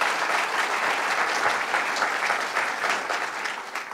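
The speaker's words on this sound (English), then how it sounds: "let's give them a round of applause" Steady, full applause from an audience at a governor's public announcement in Staten Island, unbroken for the whole stretch with no voices on top.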